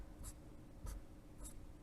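A pen or marker drawing on a board during a music lecture, giving three short, faint scratchy strokes spaced about half a second apart against a quiet room.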